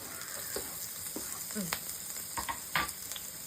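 Chopped onions drop into hot oil in a home kitchen pan, giving a steady close sizzle with brief crackling bursts and a few small clatters, no talk over it.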